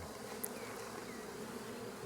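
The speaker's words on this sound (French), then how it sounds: "on est en pleine période d'essaimage" Swarming honey bees drone in a dense, continuous buzz at steady level, close and without any voices.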